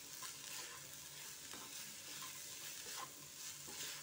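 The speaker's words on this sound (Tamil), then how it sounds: "இப்போ இதை நம்ம இதோட சேர்த்து கிளறி விட்டுடலாம்." Kerala-style cluster bean thoran being stirred in a pan gives soft, quiet scraping over a faint, steady sizzle with no voices.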